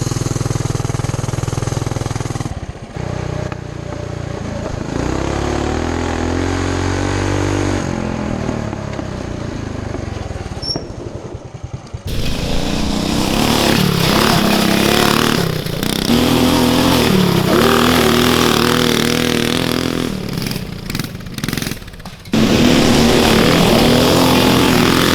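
A Coleman CT200U mini bike engine runs steadily and loudly close by, its rough buzzing drone holding for the whole stretch with a few brief dips and surges in pitch.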